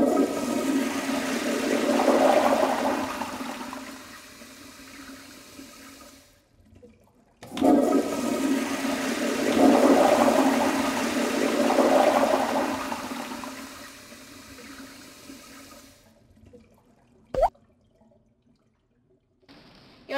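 A toilet flushing twice in a row, each a loud rushing swirl of water that fades into a quiet refill trickle, with a brief sharp knock near the end.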